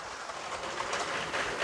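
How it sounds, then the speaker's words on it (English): A Lego toy train runs around a layout through a Lego city main station, giving a steady, continuous rolling rattle with faint clicking at moderate level, with no talking. "here's the latest Lego train making its way around the main train station"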